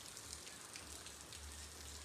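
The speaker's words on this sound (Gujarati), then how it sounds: "કન્ટિન્યુ ચાલુ જ છે વરસાદ." Continuous rain that has gone on since the night patters steadily and evenly on a surface, a dense unbroken hiss with no voices.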